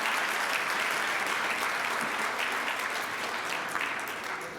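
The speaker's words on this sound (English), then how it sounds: "Let's give Owen another round of applause." An audience at a Rotary club meeting gives a warm round of applause, sustained close clapping that fades slightly at the end.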